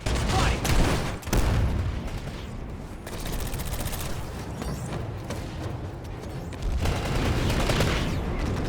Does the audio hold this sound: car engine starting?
no